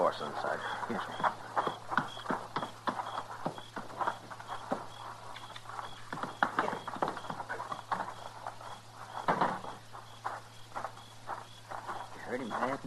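Horse hooves clopping at a walk as a horse is led inside in a 1954 Gunsmoke radio drama, a steady run of soft hoof knocks under ongoing talk and low background hum.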